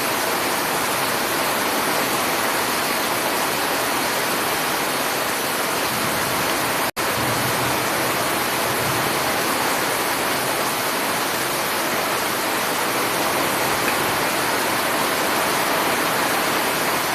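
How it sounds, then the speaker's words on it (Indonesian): Heavy rain pours outside in a steady, dense broadband hiss that holds for the whole stretch, with one brief sharp click partway through and no speech. "Hujannya gede banget ya, luar."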